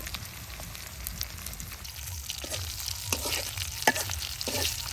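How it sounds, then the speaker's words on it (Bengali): Pangas fish frying in hot oil, a close, steady sizzle with scattered sharp crackles and pops throughout, no voices. "পাঙ্কাশ মাছ ভাজি করলে এমনি তেল উঠে"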